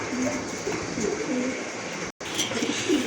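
Pigeons held for sale at a bird market coo softly in low, rolling phrases beneath a constant wash of background noise, with one brief dropout midway.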